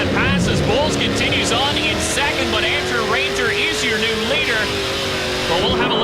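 Race car engine running at full tune during a street circuit race in Toronto, a steady high revving drone with shifting pitch sweeps, loud and continuous, with a commentator talking over it throughout.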